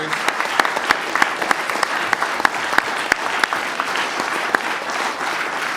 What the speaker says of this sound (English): If we could just clap for all of our first responders.